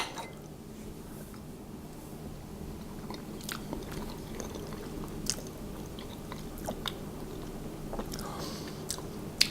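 Close biting and chewing of a slice of moist coconut and pineapple cake, soft squishy mastication with occasional small crunchy bites running steadily throughout, no talking.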